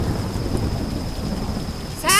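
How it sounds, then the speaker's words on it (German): Steady rain hiss with a low rumble of thunder rolling underneath, followed by a sudden brighter burst at the end, in the video game Tomb Raider. "Es regnet schon wieder, ist ja klar."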